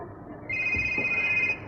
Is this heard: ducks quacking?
no